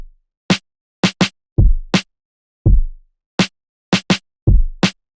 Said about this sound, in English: Let's listen to what we have so far, which is the kick and snare.